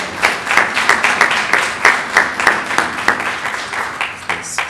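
Members of a Baptist church congregation clap together in a steady rhythmic beat, fairly close and loud, with a few scattered extra claps and no talking.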